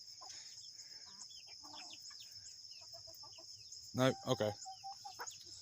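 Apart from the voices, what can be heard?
chickens clucking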